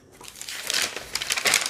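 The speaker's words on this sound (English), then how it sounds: "I like the sound of this paper." Notebook paper crinkling and rustling up close as it is handled, with a steady papery crackle that builds into brighter crisp bursts toward the end.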